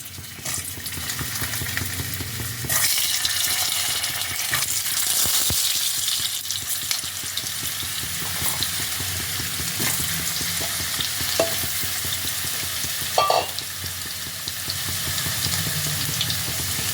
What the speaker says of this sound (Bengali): এবার আমি এই তেলের মধ্যে আলুগুলো দিয়ে দিচ্ছি